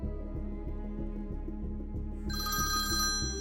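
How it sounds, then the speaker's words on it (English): A telephone bell rings steadily in repeated trills, loud and close, with a brighter electronic tone joining near the end. "awoken to the telephone ringing at 12:30 a.m."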